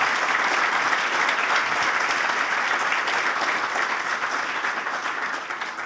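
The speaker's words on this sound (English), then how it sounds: "the round of applause should go to the project manager of organizing DKNOG9, please, Allan." Sustained applause from a conference audience at the DKNOG9 network operators' wrap-up, dense even clapping that fills the whole six seconds and tapers off slightly near the end, with no voices over it.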